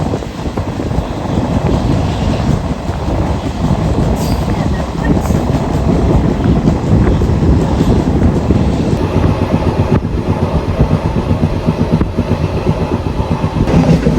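A special passenger train on the Vijayapura to Hubli line rolls steadily along the rails, with continuous rumble, rattling carriages and a rushing wind noise close to the microphone throughout.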